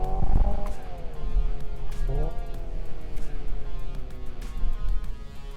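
A Hyundai Ioniq 5 N electric hot hatch being driven hard, with its synthetic exhaust note rising and falling in pitch through shifts, loud and steady inside the cabin.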